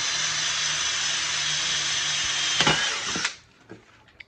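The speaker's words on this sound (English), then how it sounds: "you just drill some holes in it" A power drill whines loudly and steadily for about three seconds while drilling holes in a Honda Jazz airbox, then winds down and stops, leaving a few faint clicks and knocks.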